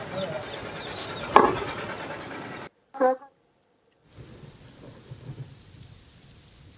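Heavy monsoon rain and thunder in Kolhapur district, Maharashtra, with a loud sharp crack early on, then a brief gap and a short rumbling burst before the rain hiss returns more faintly.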